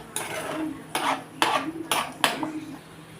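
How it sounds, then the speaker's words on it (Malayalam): A spoon scrapes and clinks against a pan while liver roasts, five distinct stirring strokes at a steady pace, close and fairly loud over a faint background hiss. "ഇത് നല്ലൊരു ബ്രൗൺ കളർ ആവുന്ന വരെ ഒന്ന് റോസ്റ്റ് ചെയ്യുക."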